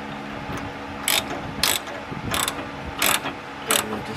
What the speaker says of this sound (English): And we'll get our 19 millimeter and slowly tighten this up so it can pop out.